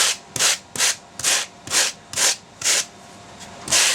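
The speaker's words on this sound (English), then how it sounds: "Wire brush works pretty good. This is a welding brush." Close, loud wire welding brush scrubbing back and forth over a surface in about eight even, rhythmic strokes, roughing it up while building a rabbit taxidermy habitat.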